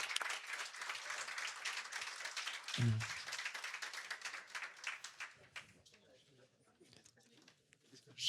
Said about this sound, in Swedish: En varm applåd till den andra panelen.